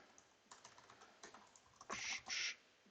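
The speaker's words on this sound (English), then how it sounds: "what's wrong with my typing today?" Quick taps on a computer keyboard, scattered keystrokes followed by two longer bursts near the end, faint and close in an otherwise quiet room.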